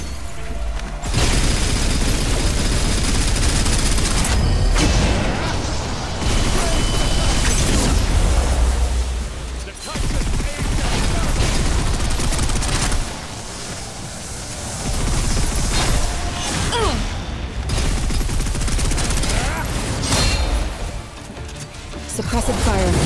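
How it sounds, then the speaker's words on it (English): Suppressive gunfire in the video game Snowbreak: Containment Zone during a boss fight, dense and loud blasts of shooting and impacts in long bursts with short pauses, under music and a voice. "Suppressive fire."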